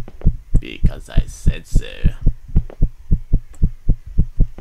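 Loud, steady heartbeat throbbing in a fast, even double-thump rhythm with a low hum beneath it, while a voice briefly speaks over the first couple of seconds.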